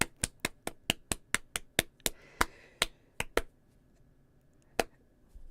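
Two show hosts clap a program in, a sharp run of about a dozen crisp, closely spaced claps, then a couple of stray claps after a pause, near and fairly quiet, with no talk.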